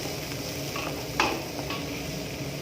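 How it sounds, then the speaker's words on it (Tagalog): Onions sauté and brown in a pan alongside chili and garlic for pork binagoongan, with a steady close sizzle and a single sharp stir or scrape near the middle. "Pabrownin natin maigi ang ating sibuyas bago natin ilagay yung kamatis."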